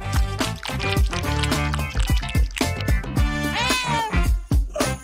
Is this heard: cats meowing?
yes